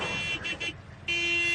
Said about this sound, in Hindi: तू हॉर्न मत बजा।